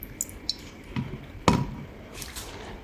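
Water is poured over the roots of a moth orchid: scattered soft drips and small splashes, with one sharper splash near the middle. The sounds are close and fairly quiet, and no one speaks.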